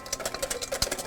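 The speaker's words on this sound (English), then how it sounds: "We're gonna be here a while, maybe another 5 more minutes whipping this." Eggs whisked by hand until frothy, a quick, steady run of light rhythmic strokes against the bowl, close and fairly quiet, with no talking.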